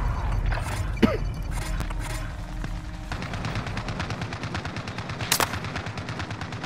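Video game gunfire in Call of Duty: Modern Warfare, with rapid automatic bursts and a dense mechanical rattle running alongside a few sharper single shots.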